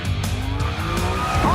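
A Dodge Hornet RT crossover accelerates hard under a loud engine, with tires squealing and a rising whine, all close and continuous.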